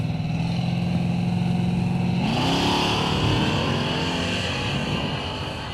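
A truck launching at a no prep drag race at Newport Raceway, its engine droning steadily before a rising roar as it pulls away, loud and close with crowd and track noise underneath.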